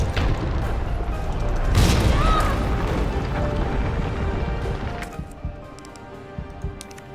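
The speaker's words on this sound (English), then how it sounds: "Let's equip this and throw some grenades." Grenade blasts in a shooter video game, a heavy booming explosion with a long rumbling tail followed by a quieter crackling decay, loud and close with no talk over it.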